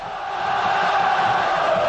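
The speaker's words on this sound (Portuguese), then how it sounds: "Na arquibancada, a torcida fazia a festa." Football crowd in the stands of a Rio de Janeiro stadium during a Vasco versus Bangu title-race match, celebrating as a steady, dense roar of many voices that swells slightly and holds throughout.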